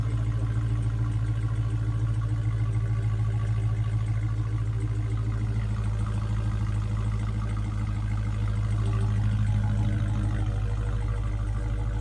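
A supercharged 2020 Widebody Hellcat Daytona limited edition idles steadily, a deep constant rumble with a faint clatter over it and no revving.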